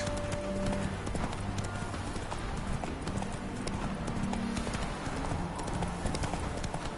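Steady, fast clip-clop of horse hooves at a gallop in the video game The Witcher 3, continuous and fairly loud over a dense rumbling background.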